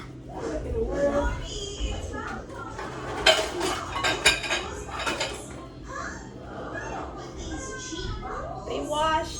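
Pots, pans and cutlery clank and clatter in a home kitchen while someone rummages for a pot to fry Oreos, with repeated metallic knocks close by, under people talking, including a child.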